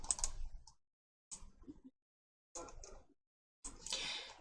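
Short bursts of clicking keystrokes on a computer keyboard, pressed to enter a Windows key shortcut, come in four separate quiet clusters with silent gaps between them.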